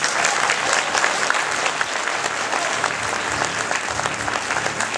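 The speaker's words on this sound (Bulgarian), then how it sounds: "Моля вашите аплодисменти за създателя на конкурса Жустин Томс." Sustained audience applause fills a packed hall at an awards ceremony as the contest's creator is welcomed to the stage, a dense, steady wash of clapping from many hands throughout.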